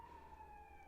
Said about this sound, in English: Sorry if you hear sirens in the background.